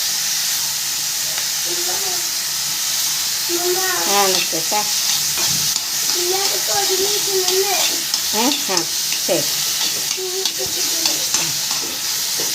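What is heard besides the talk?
sautéing drumstick pulp in a pan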